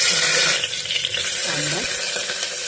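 Onion and two bay leaves hit hot oil in a pressure cooker for tempering, giving a bright, close sizzle and crackle with some stirring over a short span.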